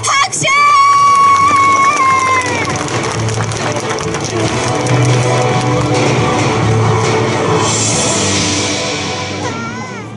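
A live audience claps steadily at a samurai and ninja show, a morning martial-arts demonstration featuring Tokugawa Ieyasu and Hattori Hanzo's ninja troupe; a brief high tone opens, then dense, sustained applause fills the space before slowly easing.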